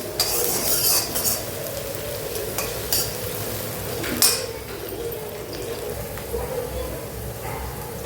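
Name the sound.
onions frying and being stirred on high flame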